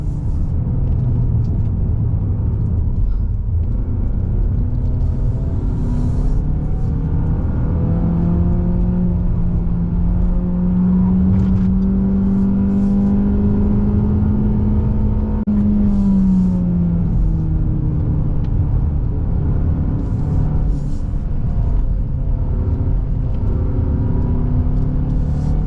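A 2.0-litre Mazda 3 sedan drives through the corners of the Genting mountain road, its engine humming loud and close, the pitch rising and falling as it pulls through the bends, with no talking.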